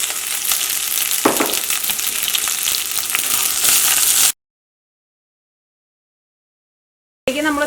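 Shallots and green chillies frying in hot oil in a pan for a Kerala pumpkin curry, a loud continuous sizzle with a brief clatter, cut off by a few seconds of silence before the sizzle returns.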